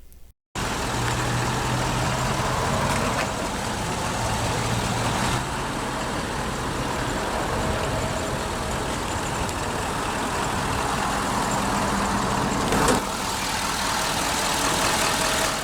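A 2015 Ford F-250 Super Duty Platinum 4x4 with the Powerstroke 6.7-liter turbo diesel V8 idles steadily, a continuous low rumble with a faint hum and no revving, heard close with no voices.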